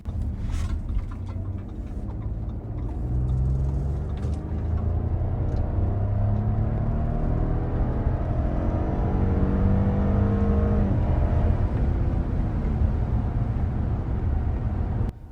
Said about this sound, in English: let's go ahead and do another acceleration test and test out this V6 engine